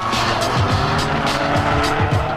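A Prodrive P2 race car in the Live for Speed driving game corners hard, its engine roaring loud and close while the tyres squeal and skid in repeated pulsing bursts.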